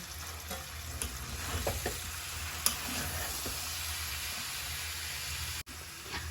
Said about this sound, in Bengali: চালতাটাকে অনেকটুকু আমি ভেজে নিয়েছি তেলে